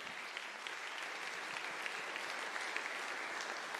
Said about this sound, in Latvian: Un ar aplausiem sagaidīsim ķelmēnu vadītāju Rūtu Mūrnieci.